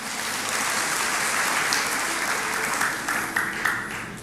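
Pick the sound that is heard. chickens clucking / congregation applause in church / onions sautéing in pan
congregation applause in church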